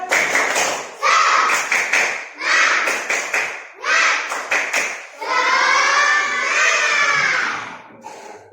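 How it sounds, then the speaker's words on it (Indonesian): An Indonesian school class does a rhythmic spirit clap (tepuk semangat): quick patterned bursts of many hands clapping and thumping in unison, separated by short pauses, then ending in a loud swell of children's shouting and cheering. "sekarang tepuk semangat"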